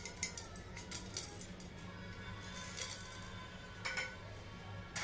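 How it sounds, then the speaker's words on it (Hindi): Coriander seeds patter and clink faintly into a warming heavy-based frying pan, in scattered light ticks and small rattling bursts over a low background hum. "पहले हम धनिया ऐड कर लेंगे"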